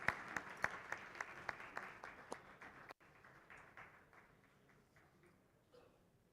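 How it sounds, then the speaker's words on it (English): Applause from a conference audience at a national leadership event in India. Sharp claps come in strong bursts at first, then thin out after a brief cut into softer, scattered clapping that fades. "Let's welcome them with a round of applause"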